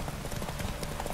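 Horse hooves in The Witcher 3 clip-clop in a steady galloping rhythm, loud and close, continuing throughout with a dense game soundscape behind them.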